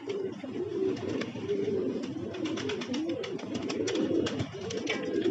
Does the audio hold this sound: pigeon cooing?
yes